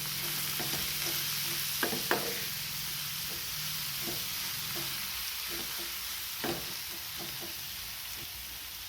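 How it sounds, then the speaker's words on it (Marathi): Cluster beans (guar) frying in a pan with steady sizzle while being mixed, a spatula scraping and tapping at irregular intervals over the hiss; no one speaks. "तर आपल्याला हे मिक्स करून घ्यायचं आहे."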